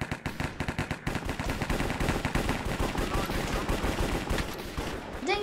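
Rapid bursts of video game gunfire in Hypixel Cops and Crims, a dense run of sharp shots stacking into near-continuous automatic fire, loud and close throughout with brief gaps.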